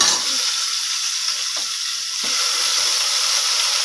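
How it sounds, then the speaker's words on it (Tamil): Onions frying in hot oil in a home kitchen, a steady close sizzle with a brief stir or two partway through, no voices. "வெங்காயத்தை போட்டேன். வெங்காயம் நல்லா செவரட்டும்."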